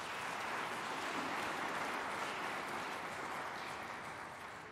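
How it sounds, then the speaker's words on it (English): Faint, distant applause from a symposium audience, a soft continuous wash of clapping that slowly fades toward the end. "Can we give them a round of applause?"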